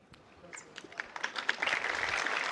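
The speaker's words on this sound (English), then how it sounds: "So thanks for this applause" Convocation audience applauding for a Central Council Member of ICAI, starting sparse with scattered claps and building into steady, dense applause from a crowd in a hall.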